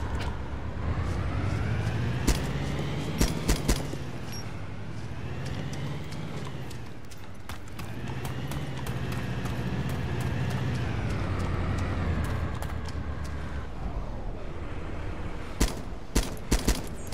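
Gunshots at a car's tires in Arma 2 Wasteland near a lumber mill, sharp scattered shots and short bursts over a droning, revving vehicle engine that rises and falls, the shots clustering near the start and end.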